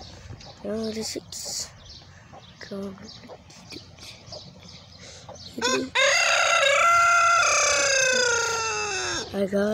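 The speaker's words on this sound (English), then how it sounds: "Chickens." Chickens cluck in short bursts nearby, then a rooster crows long and loud near the end, with farmyard noise around them.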